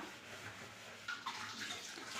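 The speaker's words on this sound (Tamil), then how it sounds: "ஒரு டம்ளர் அரிசிக்கு மூணு டம்ளர் தண்ணி விதமாக சேர்த்திக்கலாம்" Water is poured into a pot for bisibelebath rice, giving a quiet, steady splashing gush with a few brighter splashes partway through.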